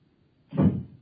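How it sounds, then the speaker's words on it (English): A front door in a radio drama is opened once, a short close knock-and-swing thud with a brief rattle that fades quickly against a quiet background. "The front door."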